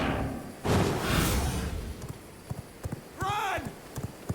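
Horse hooves clip-clop in the V Rising video game, a run of irregular hoof thuds up close beneath a loud wash of game noise, with a short sweeping tonal effect partway through.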